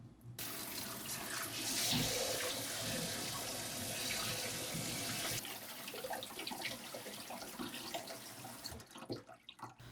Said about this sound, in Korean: 다 삶아지면 불을 끄고 찬물에 헹궈줍니다